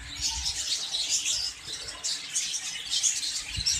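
Finches chirp in quick, faint, high twitters while pecking at soft food in a cage, a busy overlapping patter of small calls with no talk.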